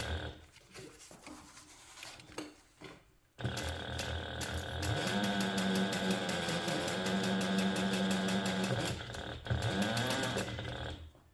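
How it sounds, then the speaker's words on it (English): Domestic sewing machine stitching down the side of a handbag pocket through an overlay, a steady, close mechanical whir with a rapid needle rhythm running for about eight seconds after quieter handling noises, pausing briefly before resuming. "I'm just going to sew down the side, each side of the pocket."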